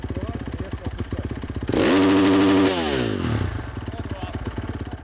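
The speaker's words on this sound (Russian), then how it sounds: "Одно из главных требований – замер уровня шума мотоцикла." A motorcycle engine idles with a rapid, even putter during a noise level check at an FIM technical inspection, then is revved hard to a loud sustained roar for about a second before dropping back to a steady idle.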